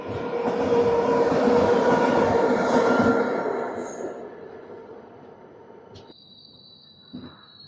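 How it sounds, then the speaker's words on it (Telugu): An Intercity Express train pulls into Charlapalli station with a loud, steady rumble of rolling coaches and wheel noise. The sound gradually fades as the train slows, and a faint squeal and a brief clank follow. "మన ట్రైన్ అయితే చర్లపల్లి స్టేషన్కి అయితే చేరుకుంది."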